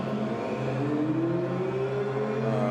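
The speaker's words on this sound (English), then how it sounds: "We wanted you to enjoy the wonderful sound of these cars." A Ferrari sports car engine revs and climbs in pitch with a smooth, powerful whir, heard fairly close and alone, at a Ferrari show event.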